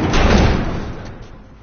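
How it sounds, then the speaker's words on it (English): A heavy door in The Last of Us video game booms shut and is barricaded, a loud close thudding rumble that fades away over about a second and a half. "Barricade the door."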